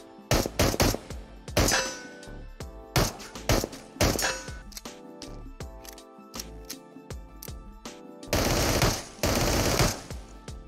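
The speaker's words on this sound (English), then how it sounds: "The Glock 18 comes in two firing modes, which is single shot and full auto." A Glock 18 pistol in the VR shooter Into the Radius fires in sharp single shots and short full-auto bursts, loud and close with brief pauses between volleys.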